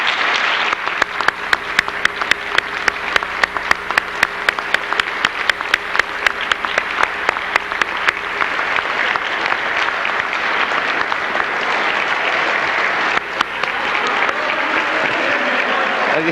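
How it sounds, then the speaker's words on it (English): An audience at a 1998 hall of fame and hall of champions induction ceremony in Norristown applauds the honorees, sustained loud clapping that starts with sharp individual claps and blends into a dense wash before tapering off, with faint voices underneath. "I feel that a collective round of applause would be in order for the group."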